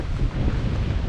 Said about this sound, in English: Boy, is it getting windy.